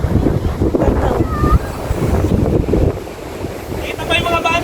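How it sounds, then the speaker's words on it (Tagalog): Strong gusts of wind at a beach buffet the microphone with a loud, steady roar, water sounds faintly beneath and a voice speaking briefly. "Ang hangin daan oh."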